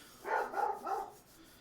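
A dog gives a quick run of about three soft, muffled barks, somewhat distant, with nobody talking.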